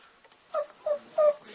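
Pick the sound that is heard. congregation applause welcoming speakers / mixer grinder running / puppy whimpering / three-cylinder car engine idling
puppy whimpering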